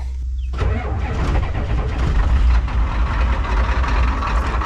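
A 1990 Ford 7.3 IDI diesel engine with 4,300 miles cranks briefly, then fires up and settles into a loud, close, steady rattling diesel idle.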